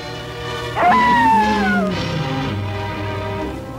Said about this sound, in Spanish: volvió a oír que la manada de coyotes regresaba.